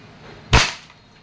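A single sharp, close shot from a WE M4 RIS gas blowback airsoft rifle in desert finish, a loud crisp crack with a short decay and no talk over it.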